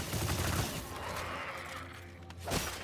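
Enemy rifle fire in the Immortal Unchained video game: a dense, rattling burst of gunfire that fades and then returns with a short thump near the end, with no talk.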